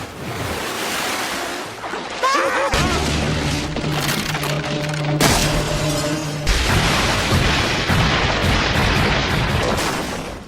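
A cartoon tower collapses after Patrick cannonballs into its outdoor pool, loud splashing and water rush followed by sustained creaking, splintering wood and a roaring crash that carries on to the end.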